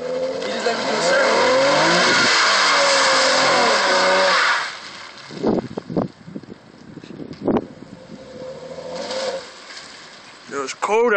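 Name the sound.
car doing a circle in the rain, tires skidding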